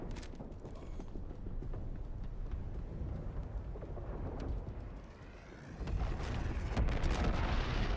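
Mortar fire in the video game Star Citizen during the siege of Orison, a steady rumbling barrage of dull booms and crackling impacts that dips briefly and then swells louder again.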